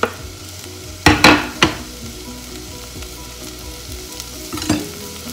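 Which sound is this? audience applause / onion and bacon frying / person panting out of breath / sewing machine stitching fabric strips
onion and bacon frying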